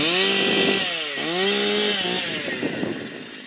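A Husqvarna chainsaw fitted with a semi-chisel chain runs loud and close, its engine note bogging and recovering in a couple of dips as it bites into wood, with no talking over it.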